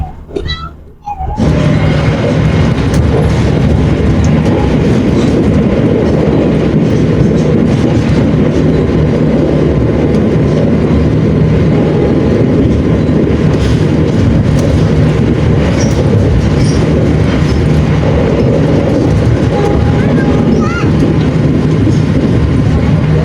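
Riding inside the KA Fajar Utama passenger train, the carriage rolls along the rails with a loud, steady rumble and faint clickety-clack that fills the whole stretch without pause.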